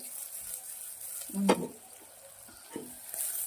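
Onion and garlic frying with garam masala in a pan, a soft steady sizzle with a couple of brief louder stirring scrapes and knocks, close but fairly quiet, no talk.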